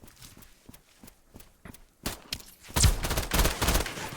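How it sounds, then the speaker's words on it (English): Machine gun spiders in a video game open fire: a dense, loud burst of rapid gunshots erupts midway, preceded by sparse rhythmic thuds like footsteps. "Oh, they're machine gun spiders!"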